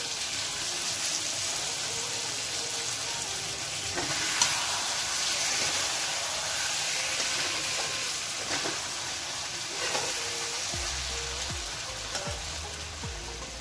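Cashew and green chili paste hitting a hot pan for a vegetarian potol (pointed gourd) curd dish, giving a steady, close sizzle and frying hiss that runs continuously with occasional soft stirring clinks, no talking.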